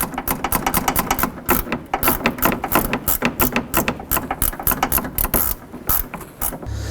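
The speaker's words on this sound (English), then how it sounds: "tighten up the bolts for the AC condenser brackets using a 10mm" A hand ratchet with a 10mm socket tightening the AC condenser bracket bolts on a 2007-11 Honda Civic during radiator replacement, giving rapid continuous clicking in quick bursts, close and loud, with no talk.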